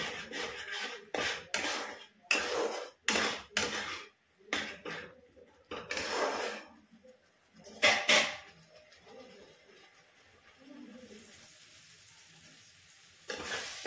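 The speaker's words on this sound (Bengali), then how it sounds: "নুন দিয়ে ভালো করে মশলাটাকে কষিয়ে নেবো।" A spice paste cooks with salt in a pan while being stirred. Bursts of scraping and rubbing come in an irregular rhythm, close and moderately loud, then give way to a quieter sizzle near the end.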